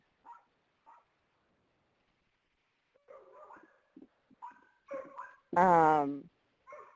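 A dog lets out a few short, soft yips, followed by a louder, drawn-out whimpering whine. Quiet gaps separate the sounds, and a person speaks in between them.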